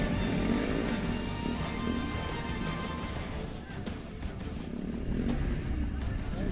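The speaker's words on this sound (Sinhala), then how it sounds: "යතුරුපැදි වේගය ඔබට දැනෙනවද මන්දා?" Pulsar motorcycles ridden at speed during a ball game challenge, with a loud, steady engine roar and broadband road noise that dips briefly midway and swells again.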